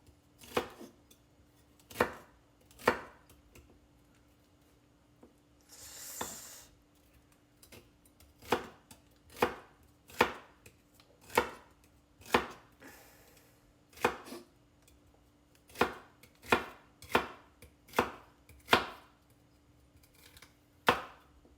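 A knife chops celery on a cutting board, the pieces growing wider toward the back of the stalk. The blade strikes come close and crisp, about sixteen in all, in an uneven but steady rhythm.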